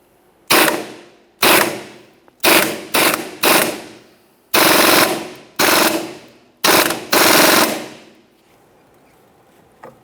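A ratchet with a 22 mm socket cranks a wheel bearing puller tool on a 2007–2017 Jeep Patriot rear hub, loud close clicking bursts in about nine separate strokes with short pauses between.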